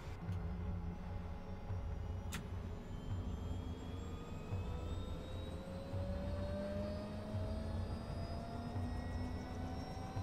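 Helicopter in DayZ: a steady engine drone and rotor whir continue throughout at moderate distance, with pitch slowly rising, no talk over it.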